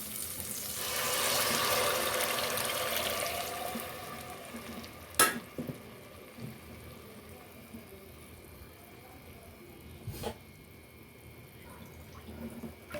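Water pours into a hot pan of rohu fish curry, setting off a loud hiss and sizzle that swells early and then settles into a steady bubbling simmer, with a couple of sharp clinks.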